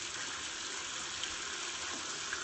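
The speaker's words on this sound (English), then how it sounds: "Okay, now the water's on." Water running steadily from a tap into a sink while makeup brushes are rinsed, a constant close rushing hiss with no pauses and no voices.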